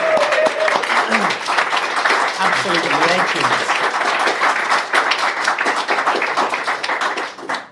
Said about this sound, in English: Let's have a round of applause. Malati's dad, come on